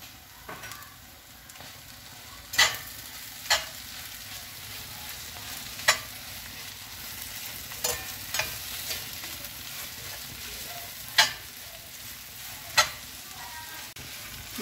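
Kottu parotta being stir-fried in a pan, shredded roti pieces and egg sizzling steadily while a metal spatula clacks against the pan in sharp, irregular strikes every second or two.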